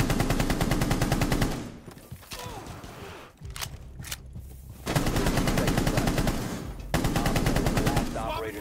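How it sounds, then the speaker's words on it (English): A close-quarters firefight in Rainbow Six Siege aboard a plane, with a shield operator involved: loud, sustained bursts of rapid automatic gunfire that break off into short pauses with scattered single shots, then resume at full intensity. "me and this guy are having an epic firefight"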